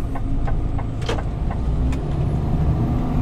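A car rumbles past on the road close by, a steady engine drone with a few sharp clicks and knocks over it.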